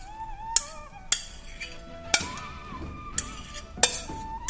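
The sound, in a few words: tossing tofu with scallions in a dish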